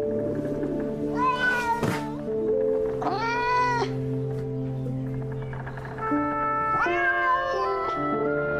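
A domestic cat meows several times in drawn-out, wavering cries, close and loud, over a steady background of music.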